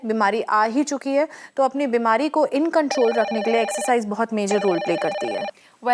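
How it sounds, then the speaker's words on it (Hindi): Telephone bells ring repeatedly and continuously in an electronic trill beneath a person talking, the ringing filling the second half clearly alongside the voice. "फ़ोन की घंटी लगातार बज रही है।"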